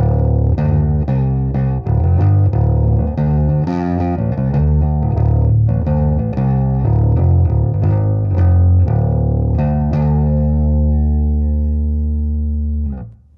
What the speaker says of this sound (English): I should now have a slightly throaty distortion sound.